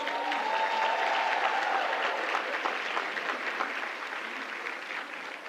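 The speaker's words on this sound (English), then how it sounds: "Give her one more round of applause." Sustained crowd applause at a St. Louis Salute to Women in Leadership event, dense and steady clapping from a large audience throughout, gradually tapering slightly toward the end.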